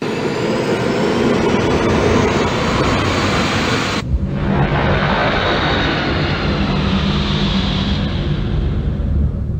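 Fighter craft take off in the Wing Commander III film, a loud, continuous jet roar filling the whole stretch, shifting abruptly partway through into a deeper, rumbling thrust.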